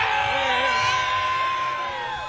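A packed college basketball arena crowd during a Cincinnati versus Dayton game roars steadily, dense cheering and whooping washing continuously, loud and close, with no pauses.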